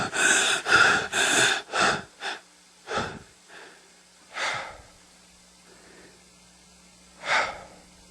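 A woman's breathing, as imitated by a voice: a run of loud, rapid heavy breaths and gasps up close, slowing into sparser breaths separated by quiet gaps.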